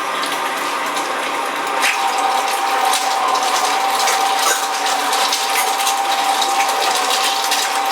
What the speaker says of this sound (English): I want to show quick how that goes to the meat grinder.